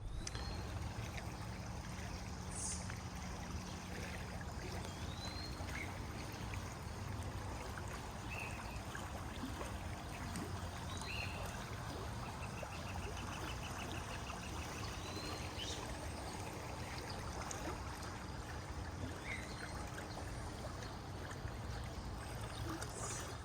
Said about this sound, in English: my little bridge is there and the water flowing on it